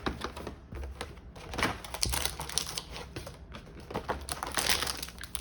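Pokémon Champion's Path card packs being unboxed, close rapid crinkling, tearing and tapping of cardboard and foil wrappers in irregular bursts, fairly quiet with no talking.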